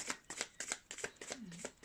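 Deck of tarot cards being shuffled by hand, a run of rapid crisp riffling bursts in uneven rhythm, close and fairly quiet, with a faint hum of voice near the end.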